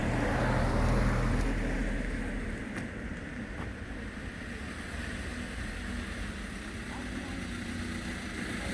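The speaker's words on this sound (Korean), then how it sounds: "아, 차들이 많이 지나다니네요." Cars pass on a nearby road as a boat is being built, a loud swell of traffic early on that eases into a steady engine rumble while someone talks.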